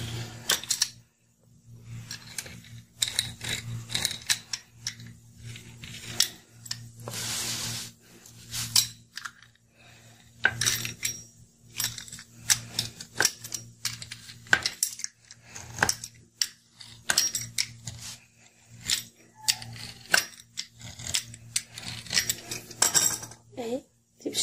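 A knife cuts a tray of Egyptian baghasha dessert into triangles, giving repeated close clicks, taps and scrapes against the pan in uneven bursts with brief pauses between strokes.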